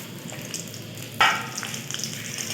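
Cashews and raisins frying on low heat and being stirred for Eid sweet vermicelli: a soft, even sizzle close by, with one sharper scrape of the spoon partway through and no voices.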